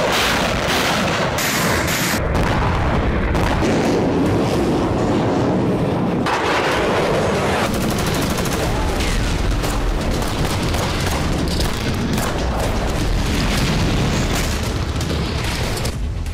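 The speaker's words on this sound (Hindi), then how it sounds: "रूस के गर्व का प्रतीक क्रीमिया में इसी तरह एक दर्जन ब्लास्ट हुए।" Heavy booming explosions in Crimea roll in a long, dense series, about a dozen blasts one after another with rumbling, crackling debris, loud and unbroken throughout.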